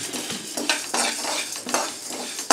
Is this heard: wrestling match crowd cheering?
no